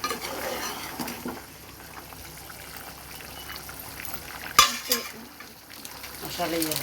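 A pan of egg curry with dry methi leaves being stirred, soft scraping and faint sizzling with a sharp utensil clink midway and a few quiet clatters toward the end.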